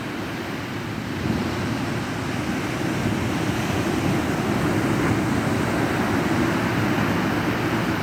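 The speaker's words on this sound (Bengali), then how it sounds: "প্রচণ্ড ঢেউ, প্রচণ্ড ঢেউ।" A continuous low roar of Arabian Sea surf rolls on throughout, swelling slightly after the first second, with no voices.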